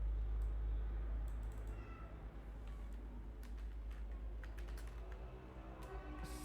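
A computer keyboard clicks in scattered, quick keystrokes as someone enters figures, fairly faint over a strong steady low hum, with no speech.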